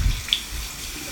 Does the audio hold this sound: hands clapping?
no